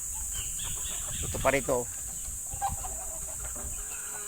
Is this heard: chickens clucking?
yes